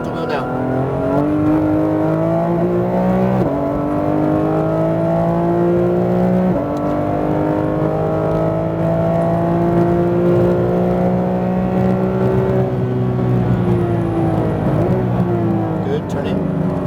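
A Porsche GT3 RS engine holding a loud, sustained high drone on a track, pitch climbing through the gears with brief shifts, while a voice talks over it.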